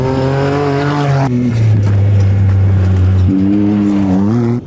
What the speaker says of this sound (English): The Saudi pushes his Toyota Hilux hard through the opening kilometers